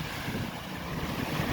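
Strong typhoon wind buffets a vinyl greenhouse in Muan at night, a continuous rushing, rumbling roar with gusty microphone buffeting, fairly faint and without talk.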